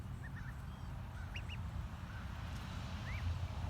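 Young ducklings, 25 days old, give scattered soft quacks and peeping calls over a steady low rumble of background noise, with no talking.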